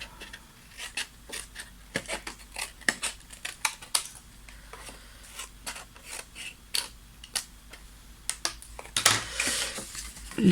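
Paper being cut with scissors for a scrapbook page, with a steady series of close, crisp snips and light rustling, ending with a louder crinkle of handled paper.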